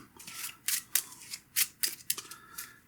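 Crew cards from the Micro Moonshine board game being shuffled by hand at close range, a run of quick riffling bursts and soft slaps with brief pauses, no talk.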